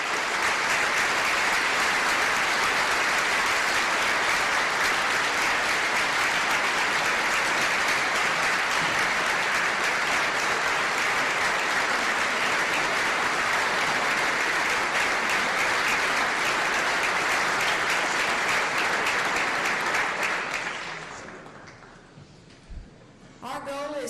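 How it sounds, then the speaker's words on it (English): A large audience at Oklahoma's 2014 State of the State address breaks into sustained, dense applause for about twenty seconds, then tapers off into near quiet. "Let's give them a round of applause."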